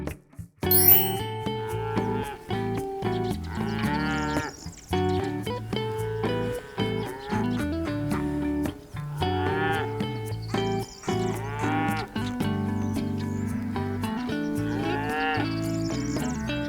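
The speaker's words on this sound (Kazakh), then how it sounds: "Бұл сиыр." A cow moos repeatedly, with long, loud, drawn-out calls at a steady pace, heard close and clear with no talking.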